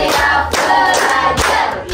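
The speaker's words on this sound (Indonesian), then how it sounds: "guru mengajak siswa melakukan ice breaking, tepuk siap belajar" A class of schoolchildren do the rhythmic "tepuk siap belajar" clapping icebreaker, with bursts of group hand claps landing in a repeating pattern, loud and close.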